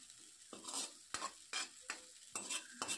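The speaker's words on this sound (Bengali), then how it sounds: "তো বারবার একটু নাড়তে হবে, নইলে কিন্তু ম্যাগিটা ধরে যাবে।" Maggi noodles stirred in a pan as the liquid cooks down: quiet, repeated scraping strokes of a ladle, about five in a row, over a faint sizzle, close and with no voices.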